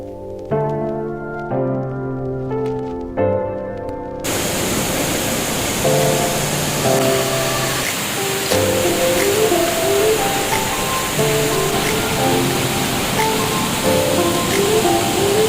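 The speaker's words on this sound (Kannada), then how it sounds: "ಹಾರ್ವೆಲಮ್ ವಾಟರ್ ಫಾಲ್ಸ್ ನೋಡೋಕ್ಕೆ ಬಂದ್ವಿ" Harvalem waterfall in Goa: a steady broadband rush of falling water that starts after a few seconds of music alone and then runs continuously under background music.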